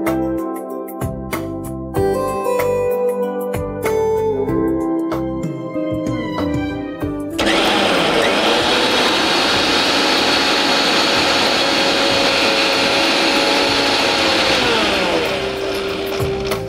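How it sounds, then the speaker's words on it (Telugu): A mixer grinder blends garlic, spices and water for Chettinad biryani, starting with choppy motor bursts and then settling into a loud, steady grinding whir that runs for about nine seconds. "మిక్సీ పట్టేసుకుందాం."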